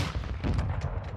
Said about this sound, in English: Oh, there's gunfire down here too.